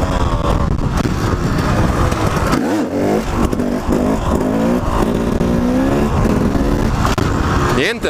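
Dirt or supermoto-style motorcycle engine revving hard through repeated wheelie attempts, loud and continuous with rising and falling pitch as gears are shifted down and back up, close to the rider throughout.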